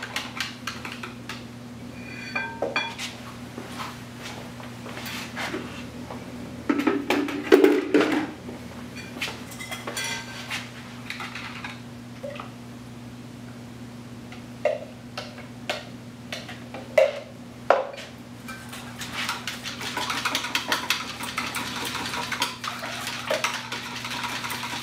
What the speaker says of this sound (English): So I will stir these until they come to trace